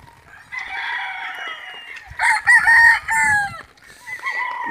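Chickens and roosters in a flooded yard during a heavy all-day storm, with nearby crowing and clucking calls in short bursts over faint background noise.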